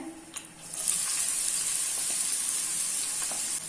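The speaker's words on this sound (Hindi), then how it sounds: "अभी इसमें फाइनली चॉप किए हुए ऑनियन ऐड कर लेना है" Chopped onions hit hot oil in a kadhai and sizzle loudly, a bright steady frying hiss that swells after a brief quieter start and holds evenly, close and without talk.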